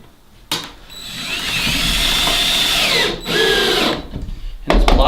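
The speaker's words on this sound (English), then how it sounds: "This will get one screw started" A power drill drives a screw into plywood while a goat disbudding box is being built, giving a loud whirring burst of about two and a half seconds that briefly dips, ending with short clicks and handling noise.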